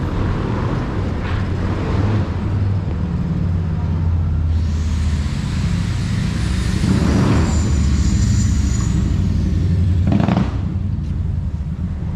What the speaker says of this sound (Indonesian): motornya digeber-geber